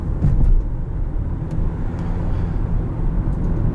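Broadband road and engine rumble from inside a 2018 Hyundai Tucson SEL driving over bumps, a steady low drone with small thumps near the start, heard alone with no talk.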